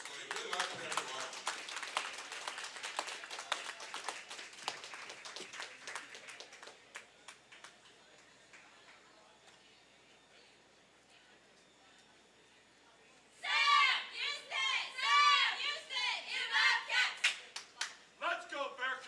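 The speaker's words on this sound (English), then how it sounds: "let's send them off with a great round of applause this morning" Clapping and applause from a crowd at a bowling league championship fill the opening seconds. After a quieter stretch, loud cheering voices break out near the end.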